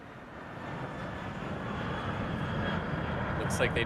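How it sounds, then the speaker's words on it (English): Stratolaunch ROC, the carrier aircraft with the world's largest wingspan, drones steadily on its approach during a test flight, a broad far-off engine roar that builds gently, with faint voices over it. "the plane is almost pointed right at the tower as it approached there."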